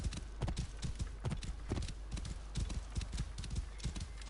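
A horse in Assassin's Creed Origins trots steadily, its hooves clopping loud and close in an even rhythm for several seconds, with a neigh surfacing among the hoofbeats.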